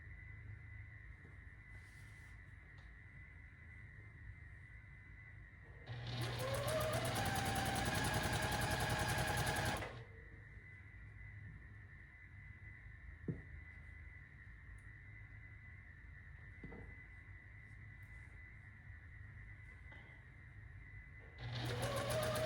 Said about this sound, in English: now we shall sew the last ones on